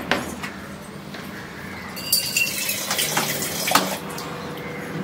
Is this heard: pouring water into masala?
yes